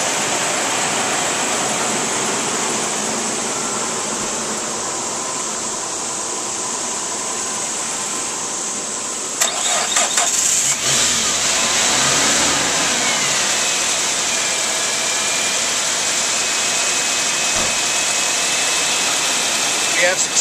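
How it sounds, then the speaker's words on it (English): A small blue car's engine catches after a jump start from a dead battery, with steady broadband engine noise giving way partway through to a rougher, louder idle that continues to the end. "We have successfully started this vehicle."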